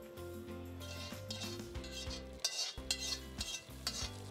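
A spoon stirs fried almonds and cashews into poppy seed payasam, making soft clinks and scrapes against the vessel, with faint sizzle and a quiet tonal background underneath.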